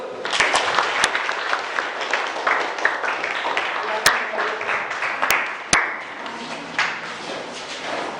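Classroom applause from a group of students, a dense stretch of clapping running steadily throughout with a few sharp taps and knocks standing out, fairly close and lively.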